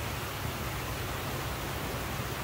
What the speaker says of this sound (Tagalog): ang sarap pakinggan yung sounds ng tubig sa ilog